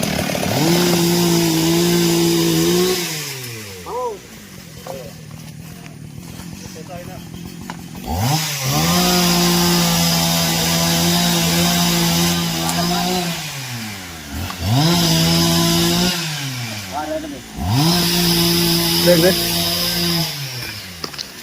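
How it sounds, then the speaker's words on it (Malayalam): A chainsaw cuts into a tree outdoors in a village, the engine roaring in several long bursts with revving rises and drops between cuts, loud and close. "ഇനി അവരടിയിൽ കട്ട് ചെയ്ത് കഴിഞ്ഞിട്ട് മരം വലിച്ചിടുക ചെയ്യാം. മരം കട്ട് ചെയ്യണം കേട്ടാ."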